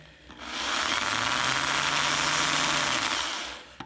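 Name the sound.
drilling through metal with drill bit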